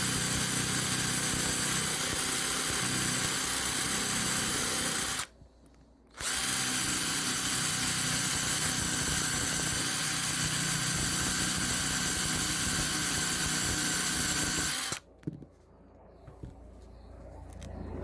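A Dremel grinding bit mounted on a drill cuts wooden spigots on a Honda CB750 side panel, a loud steady whine running continuously, briefly stopping once and cutting out near the end.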